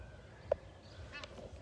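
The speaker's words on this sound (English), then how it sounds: "I just want to catch these ducks for our friends in California." Ducks call outdoors with a few short, honking quacks, moderately distant and faint against light background noise.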